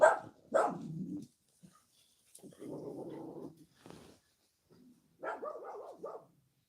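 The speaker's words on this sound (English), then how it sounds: "suddenly the dogs go. What are you barking at?" Dogs bark and growl in a few short bursts, fairly close, with quiet pauses between them.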